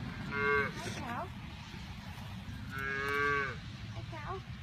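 Cows and calves mooing outdoors in chilly rain, two long bellowing calls a few seconds apart over a steady wash of rainfall, with faint talk between them.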